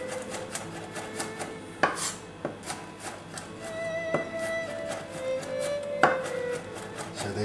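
A knife chopping onions on a board, an irregular series of close, sharp cuts and knocks with a few scraping sounds in between.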